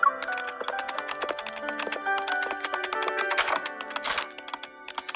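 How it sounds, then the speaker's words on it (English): Fast, steady computer keyboard typing, a dense stream of light clicks and clacks close by, slowing briefly toward the end. "His slender fingers swiftly dance across the keyboard, producing a constant click-clack sound"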